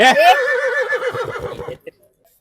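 A horse neighs loudly and close, one whinny that falls and trails off with a fluttering tail, then stops into near silence.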